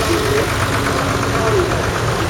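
A vintage tractor engine runs steadily during a parade into the show ring at the Gloucestershire Vintage & Country Show, a continuous mid-pitched chug beneath a constant bed of crowd and outdoor noise.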